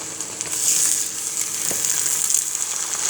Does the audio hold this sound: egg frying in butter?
yes